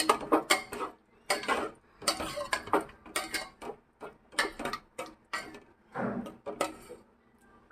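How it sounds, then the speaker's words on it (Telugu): Ingredients for a Gendi fish curry stirred together in a pot, a close, rhythmic series of clinking and scraping strokes of a utensil against the vessel, with short gaps between. "మొత్తం వేసుకొని బాగా ఇలాగా ముందుగానే కలుపుకోండి"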